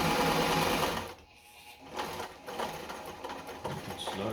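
A Singer 237 Fashionmate sewing machine stitches fabric at a long stitch length, a steady loud mechanical chatter that dips briefly before resuming at a fast even rhythm.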